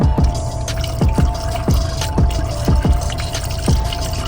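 Screen wash fluid poured from a container into a car's washer reservoir in freezing weather, a continuous glugging pour with rhythmic gulps as air enters the bottle, close and loud, no speech.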